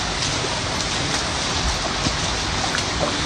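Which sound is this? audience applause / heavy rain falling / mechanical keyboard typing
heavy rain falling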